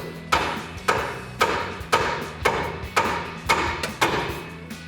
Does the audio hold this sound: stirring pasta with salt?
no